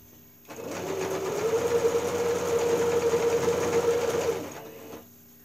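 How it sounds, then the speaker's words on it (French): A sewing machine stitches steadily around the edge of a fabric piece for a makeup-bag project, running continuously for about four seconds with a steady whirring hum, close and alone. "Donc je suis en train de coudre."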